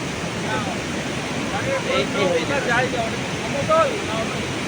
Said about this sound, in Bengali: ঝর্ণা হয়ে নেমে আসছে।